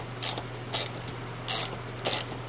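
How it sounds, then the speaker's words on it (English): Four short metallic ratcheting bursts from a ratchet wrench loosening a rear shock bolt on a 2003-or-later Ford Crown Victoria or Mercury Grand Marquis, evenly spaced and fairly close, over a steady low hum. "I was actually able to break this free with just this ratcheting wrench"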